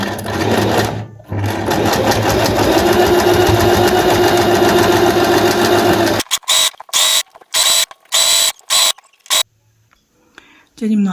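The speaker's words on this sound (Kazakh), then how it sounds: "Енді осыны машинкамен бастырып тігіп шығамыз шет-шетінен." A sewing machine stitches along the edges of turban fabric, a loud, close mechanical whir running steadily, then breaking into a series of short stop-start bursts before falling quiet.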